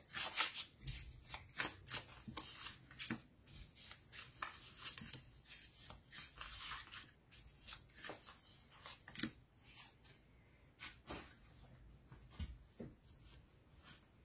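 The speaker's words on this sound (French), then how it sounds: "Allez, je préparer les cartes." Tarot cards shuffled by hand during a reading, a steady run of quick papery riffles and slaps repeating through the whole stretch, close and fairly quiet, with no talking.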